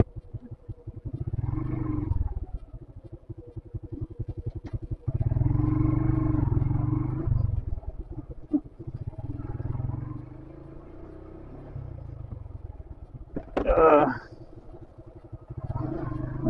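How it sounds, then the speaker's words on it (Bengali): A motorbike rides along an evening road in Dinajpur. The engine rumbles and roars in long surges as it speeds up and eases off, under steady wind noise, with one louder burst near the end. "আমি আবার চলে আসলাম আমার বাইকে।"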